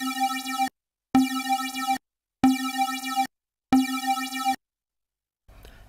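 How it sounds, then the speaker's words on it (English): Detuned eight-voice square-wave synth lead, wider and slightly wavering, repeats four evenly spaced sustained notes in a clear on-off pattern, then falls quiet with a faint rustle at the end. "Then we'll add some detuning to those voices,"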